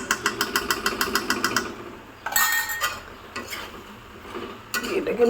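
Rhythmic scraping and clattering of a spoon stirring chili powder into pav bhaji in a pan, a rapid steady run of strokes followed by a few louder scrapes and a soft sizzle, close up.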